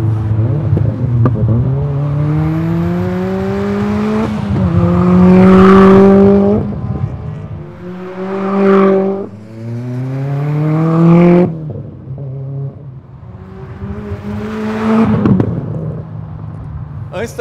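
A Renault Sandero RS turbo engine running and revving, rising and falling through several strong pulls with a steady harmonic drone, loud and close, no talking.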